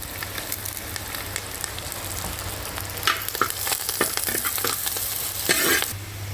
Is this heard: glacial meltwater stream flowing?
no